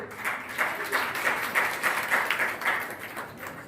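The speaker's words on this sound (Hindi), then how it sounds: "उनके लिए जोरदार तालियां होना चाहिए।" Applause from an audience at a women's honouring ceremony held by a community service organisation, a steady wash of many hands clapping with soft rhythmic peaks, moderately loud and continuous throughout, with no speech over it.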